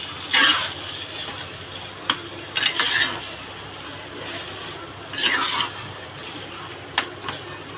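Pav bhaji vegetables are stir-fried in a pan, a spatula scraping in several short, close bursts with clicks of metal between them over a low, steady sizzle.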